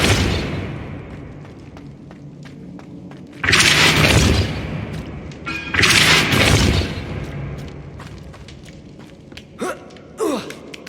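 A Depulso spell blast in the Hogwarts Legacy video game: two loud, broad whooshing bursts about two seconds apart over a steady game-ambience bed, followed by a few short, sharp knocks.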